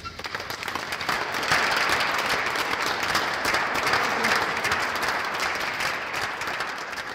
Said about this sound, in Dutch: officieel openen, maar niet voordat we Sibyl een heel groot applaus hebben gegeven.